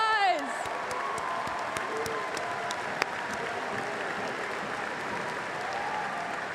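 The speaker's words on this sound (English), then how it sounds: "Give yourselves a round of applause." Crowd of students at a university welcome convocation applauding steadily, dense continuous clapping at even volume with some cheering, after a brief voice at the start.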